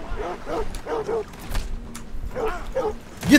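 Dog barking in Red Dead Redemption, several quick bursts of yapping barks and yips in clusters with short pauses, fairly close and loud, with brief whimper-like tones.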